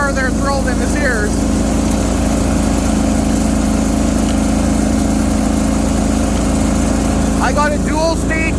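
A Bolens 1600H garden tractor with a 20HP Briggs engine churns through deep snow, its engine droning loud and steady throughout, with brief squeaky scraping sounds near the start and end.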